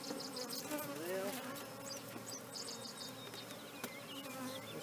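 Honey bees buzz around an open beehive during a hive check, a dense, steady drone of many insects with no pauses. Higher individual wing whines pass close by above the swarm hum.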